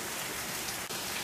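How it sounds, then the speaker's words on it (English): Steady rain falling outdoors in ugly weather, a dense continuous hiss of drops on surfaces throughout, fairly close and even, with no talk. "It's raining."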